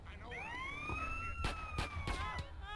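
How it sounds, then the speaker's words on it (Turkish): A police car siren wails in GTA San Andreas, a clear rising and falling tone held over the scene, with sharp clanks and engine noise beneath it. "Polis aracı!"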